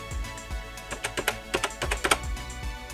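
Keys clatter on a Commodore 64 reborn keyboard, a close run of crisp, clicky keystrokes in an uneven typing rhythm.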